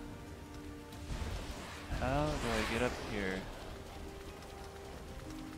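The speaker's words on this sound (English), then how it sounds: "It's starting to rain." Rain falls in the Sonic Frontiers video game, a steady soft patter running throughout while a player speaks over it.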